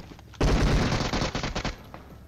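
Gunfire in the video game PUBG Mobile breaks out suddenly as a loud, dense burst of rapid shots. It continues with irregular bursts for nearly two seconds before tapering off, with no talking over it.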